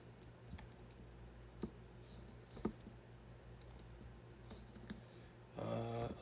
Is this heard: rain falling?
no